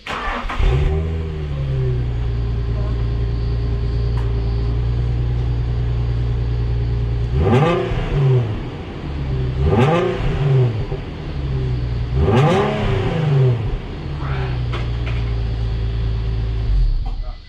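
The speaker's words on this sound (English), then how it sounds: "I'll do a quick sound clip to see what the exhaust sounds like without the" A V35 Nissan Skyline engine with its muffler removed idles with a deep, throaty exhaust rumble, then revs sharply several times in a row before settling back to a steady idle.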